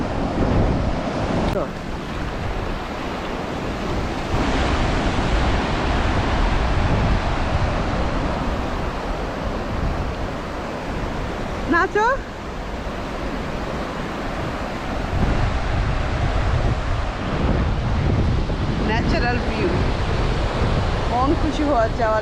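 Sea waves wash ashore at Cox's Bazar beach, a steady surf roar with heavy wind buffeting the microphone and a brief whistle-like sound in the middle.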